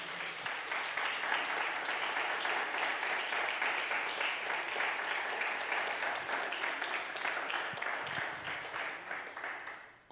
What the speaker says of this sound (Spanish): Vamos a darle un fuerte aplauso al Señor hasta este momento